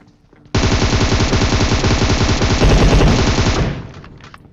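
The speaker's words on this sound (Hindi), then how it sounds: "अब इस बंदे को मारते समय मुझे एक शॉटगन की आवाज़ आई" Sustained automatic gunfire from a PUBG Mobile match, loud and close, starting abruptly and running as a dense rapid burst for about three seconds before tailing off, with no talk.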